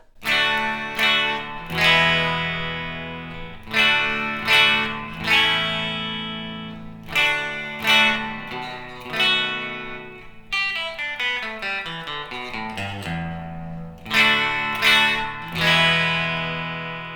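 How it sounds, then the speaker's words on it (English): A clean electric guitar rings through a Fender Twin Reverb '65 reissue amp with reverb, strummed chords repeating in a steady rhythm and then a descending run of single notes, loud and clear with no talking. "I'll play a little bit just so you can hear what my clean tone sounds like to start with."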